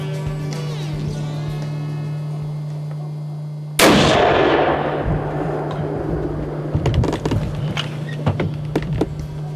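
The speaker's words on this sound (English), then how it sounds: "Whenever you're ready, take your time, squeeze the trigger." A single hunting rifle shot is fired outdoors during a youth hunt. It cracks sharply after a steady hum, and a long rumbling echo follows as it fades, with faint rustling after it.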